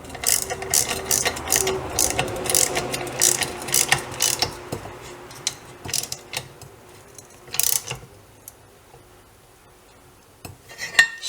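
Ratcheting and metallic clicking come from a clamp being tightened onto a part in a motorcycle workshop, heard as irregular bursts of clanks and gear-like clicks with quieter pauses between them.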